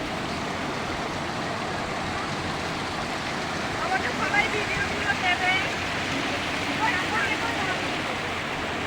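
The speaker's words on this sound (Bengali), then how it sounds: "আর এই সাইডে একটা কৃত্রিম ঝর্ণা করেছে" An artificial waterfall in a hilltop garden gives a steady rushing, splashing wash of falling water, moderately loud, with faint voices mixed in.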